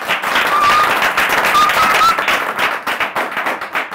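A crowd applauds Dr. Juma at a Kenyan national event, a dense burst of clapping that carries loud throughout and thins slightly toward the end.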